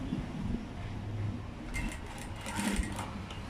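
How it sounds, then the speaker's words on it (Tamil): A sewing machine stitches fabric for an A-line frock, with a close mechanical whirr of needle strokes that runs steadily and grows busier partway through. No one speaks. "இந்த மாதிரி துணி சுருண்டுக்காமல் கரெக்டாக இப்படி கொஞ்சம் கொஞ்சமாக வச்சு தைச்சிங்கன்னா தான் அது நீட்டாக வரும்"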